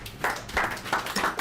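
Bootcamp audience clapping in about four separate bursts, each a short, fairly loud cluster of claps with brief gaps between them and no talk over it.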